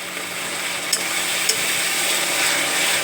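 Mutton masala with garlic paste and dried chilli paste is sautéed in a pan, giving a steady close sizzle with a couple of sharp utensil clicks against the pan.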